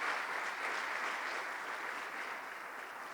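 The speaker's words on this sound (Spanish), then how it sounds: "Dele fuerte las palmas al Señor" A church congregation claps loudly in unison for the Lord, a thick continuous wash of many hands that stays level and then eases off slightly toward the end.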